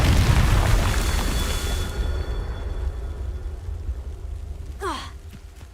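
A Confringo blasting spell goes off in Hogwarts Legacy: a loud, broad burst at the start that decays into a rumbling tail, with a brief whooshing sweep near the end.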